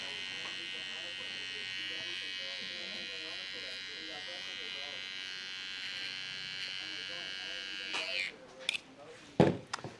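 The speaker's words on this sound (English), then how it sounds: "you'll kind of want to like slide your clipper a little bit while you're cutting" Electric hair clipper buzzes steadily while trimming hair during a burst fade with a textured fringe, then gives a few louder bursts and knocks near the end as people talk quietly underneath.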